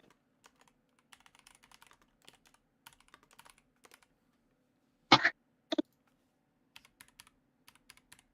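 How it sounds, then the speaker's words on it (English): Keystrokes on a computer keyboard tap out in sparse, quiet bursts with short pauses, interrupted midway by a couple of loud coughs or throat clears nearby. "I'm typing everything on the other screen anyways for that reason alone."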